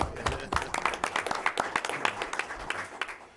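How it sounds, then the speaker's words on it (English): A room at a town Board of Selectmen meeting breaks into applause, with irregular clapping from a modest group that stays fairly close and gradually thins out. "Before you go on, applause."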